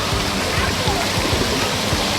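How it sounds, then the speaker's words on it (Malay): Water rushes and splashes continuously at a waterpark bucket that fills, tips and pours out, a loud close torrent with a voice faintly talking underneath. "ada tempat air boleh, air ditadah, lepas tu air tu tumpah"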